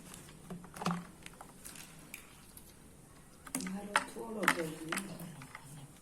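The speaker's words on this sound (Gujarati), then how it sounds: "હવે તેમાં આપણે બરફ નાખીશું." Ice cubes drop into a glass of homemade sugarcane-style juice, giving a few sharp clinks and rattles that bunch together in a short burst midway, after quieter scattered kitchen ticks.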